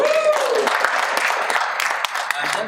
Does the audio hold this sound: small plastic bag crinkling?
no